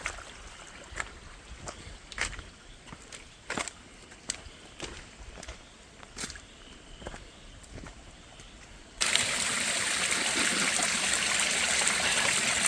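Waterfall cascades in the forest of French Guiana on the Lamirande trail: quiet splashing footsteps give way to a sudden, loud, continuous rush of falling water that holds steady to the end.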